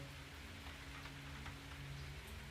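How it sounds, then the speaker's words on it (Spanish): Steady rain falls outdoors over mountains and a garden, a soft, continuous hiss of drops with no talking, fairly faint and even throughout. "En este momento está lloviendo"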